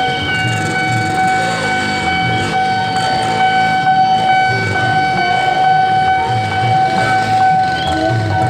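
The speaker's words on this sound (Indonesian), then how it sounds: "Nanti kita tunggu aja keretanya melintas ya." A KRL commuter train rumbles past a railway level crossing with its barriers closed, a steady, loud roll of wheels layered with sustained ringing warning tones from the crossing.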